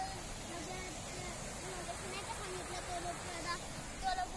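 River water flowing steadily through a Konkan jungle, a soft continuous broadband rush heard from a short distance, faint and even throughout with no distinct splashes.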